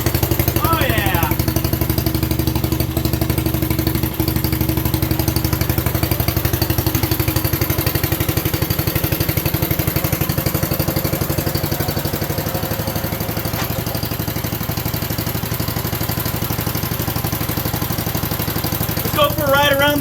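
A 1967 Unico 7 hp tractor engine runs steadily and loudly throughout, its low chugging drone continuous as the machine drives around a yard, with brief voices and clatter over it.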